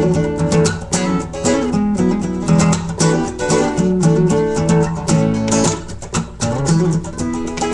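Fast electric guitar playing, part of a vamping and comping lesson, fills the stretch with dense, steady strummed chords and quick runs, loud and continuous with no talking.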